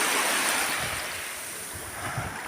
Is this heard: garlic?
no